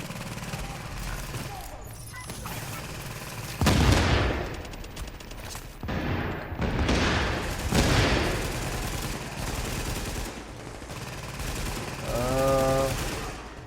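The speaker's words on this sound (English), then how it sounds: "Machine guns are pretty bad." Machine gun fire in The Division, repeated bursts of gunfire and fusillades across a busy combat scene, some loud and close, others farther off, with a brief beeping alert near the end.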